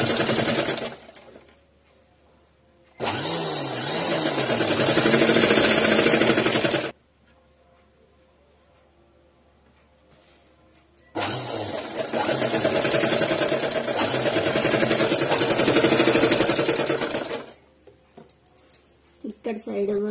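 A sewing machine stitches fabric in two runs of several seconds each, whirring steadily and close, separated by quiet pauses, with someone talking between and over the stitching.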